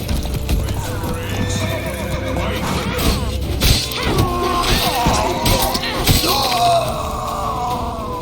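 Horses whinny and neigh loudly over clattering hooves and commotion in The Witcher 3: Wild Hunt, with shouts and a crash mixed into the busy scene.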